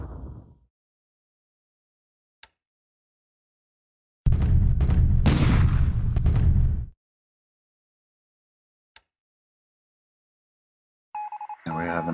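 Naval shore bombardment artillery in a World War II Pacific strategy game, a single loud, sustained booming burst of about two and a half seconds, with brief clicks and a short game chime around it.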